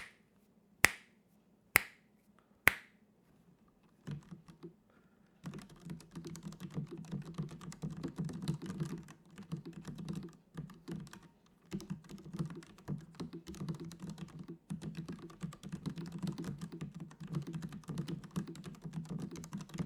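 Three sharp snaps open, then soft, muffled typing on a quiet mechanical keyboard, the Dareu EK820, runs as a quiet, steady stream of low clicks, close to the microphone.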